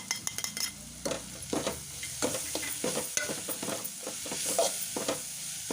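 Masala for a paneer bread sandwich stirred and frying in a pan, with a steady sizzle and repeated scraping and clinking of a utensil against the pan, close and moderately loud, no talking.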